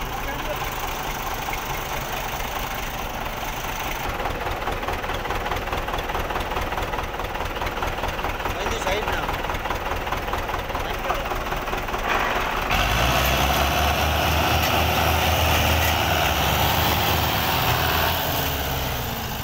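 A Belarus 510 tractor's diesel engine labors hard under heavy load while pulling a trolley, a steady dense rumble that grows louder and rougher partway through, with people talking under it.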